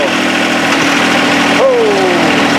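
A John Deere 1025R compact tractor idles steadily at close range; when the PTO for its snow blower is engaged the engine note sags and settles into a lower, continuous drone.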